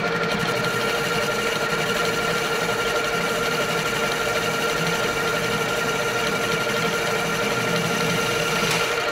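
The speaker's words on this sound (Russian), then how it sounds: "Сейчас мы делаем диаметр 18 и нарезаем резьбу." Lathe turning a Kamaz engine part down to an 18 mm diameter and cutting a thread, a steady, loud machining whir and hum running continuously throughout with no talk.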